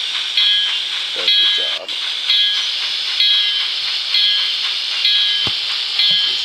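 An N-scale GHQ Northern Pacific W3 Mikado model steam engine runs with a steady electronic steam-sound hiss and a repeating chuff cycle, loud and close, with a brief spoken remark partway through.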